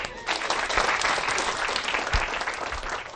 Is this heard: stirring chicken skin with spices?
no